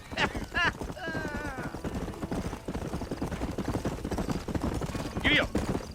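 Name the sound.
horse hooves trotting in Red Dead Redemption video game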